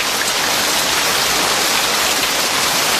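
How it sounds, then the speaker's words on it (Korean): Heavy rain pours down steadily, a dense, loud, continuous hiss of drops striking surfaces close by, with no voices. "연주가 끝나면 들려오는 빗소리 점점 가까이 세게 퍼붓습니다."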